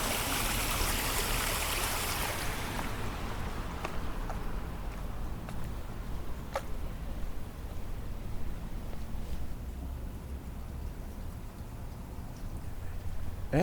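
Steady splashing of a water fountain, loud at first then settling into a softer continuous trickle, with faint scattered clicks in the background.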